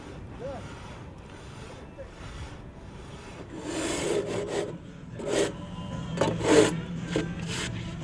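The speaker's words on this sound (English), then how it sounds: "As needed, rasp or sand the top of the walls to ensure a level bed joint for the next course." A rasp is scraped across the top of a FlexCrete block wall in repeated rough strokes, starting faint and growing louder and closer, with a few brief rubbing bursts toward the end.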